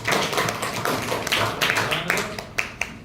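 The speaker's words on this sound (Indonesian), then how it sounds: "Oke, tepuk tangan kelompok 4-nya." Classroom students clap for a presenting group, a quick burst of scattered hand claps from a nearby crowd that thins out into a few final isolated claps, with faint chatter underneath.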